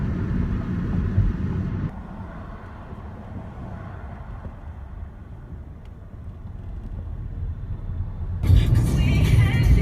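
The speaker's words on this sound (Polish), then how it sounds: "i jedziemy. Na autostradzie." Car cruising on a four-lane-each-way highway near Santa Cruz, steady low road and engine rumble with wind buffeting throughout, growing louder and rougher near the end.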